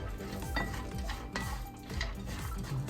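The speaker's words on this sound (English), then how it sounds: "I want to stir the walnuts up." Walnuts are stirred in a pan for walnut candy, giving soft rhythmic scraping and light rattling of nuts against the pan, close and fairly quiet, with no talk.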